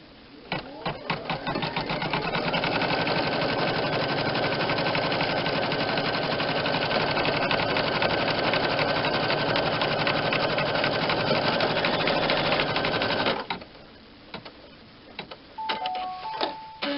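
A sewing machine stitching a pillowcase runs fast and loud, starting with a few stuttering bursts, then sustaining a dense mechanical hum for about eleven seconds before stopping, followed by quieter clicks and handling.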